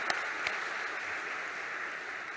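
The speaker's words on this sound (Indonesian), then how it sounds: "Tepuk tangan untuk Deako." Applause from a crowd at a high school graduation ceremony at SMAN 6 Depok, a steady wash of clapping at moderate distance, fairly faint and continuous throughout.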